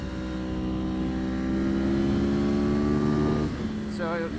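A motorcycle engine runs on the Thunderhill race track on a cold, brisk morning. It holds a loud, steady, close droning note, then shifts pitch briefly near the end.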